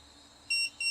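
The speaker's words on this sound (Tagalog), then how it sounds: "So, pag tumas pa to ng konti, mag-alarm na yan." A USB power module sounds its over-capacity protection alarm as the load approaches 5 amps: two loud, close electronic beeps, the first starting halfway through and the second near the end, over a quiet background.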